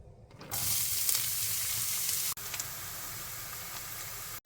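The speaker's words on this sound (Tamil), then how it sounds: "எண்ணெய் சூடாயிடுச்சு இந்த கட் பண்ணி வச்சுருக்க வெங்காயத்தை ஆட் பண்ணிக்கலாம்" Chopped onions hit hot oil in a pan and burst into a loud, steady hiss and sizzle that carries on alone, broken by a brief dip partway through.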